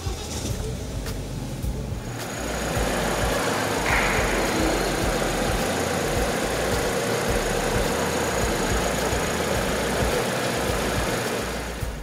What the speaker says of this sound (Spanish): Vamos a encenderlo para que puedan escuchar el sonido que hace el motor.